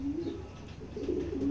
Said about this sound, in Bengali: তো এই হলো কবুতরটা।